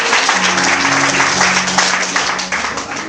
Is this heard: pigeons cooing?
no